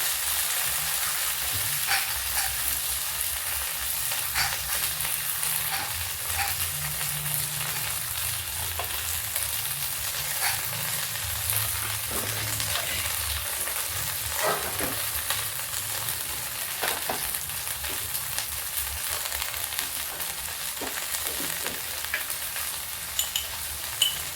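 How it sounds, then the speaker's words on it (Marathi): Onion and a vegetable dish tempered in hot oil, giving a continuous crackling sizzle with occasional stirring scrapes, held at a steady, close level throughout without any voices. "त्या भाजीला मी फोडणी देते"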